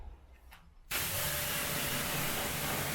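A pressure washer suddenly kicks in, blasting water across a car's paintwork after a fallout remover wash, a loud steady hissing roar that continues without pause.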